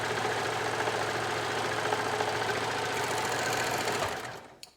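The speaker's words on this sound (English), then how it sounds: "So the first thing I'm going to do is sew the short ends." A sewing machine runs steadily, stitching the short ends of a piece of fabric with a fast continuous mechanical whir, close and even, then slows and stops near the end; no talking.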